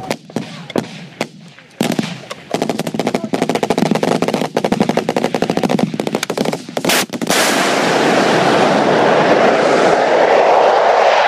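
British forces open rapid fire on a Taliban compound, a dense, loud burst of overlapping rifle and machine-gun shots lasting several seconds, preceded by scattered shots and followed by a sustained roaring wash of noise.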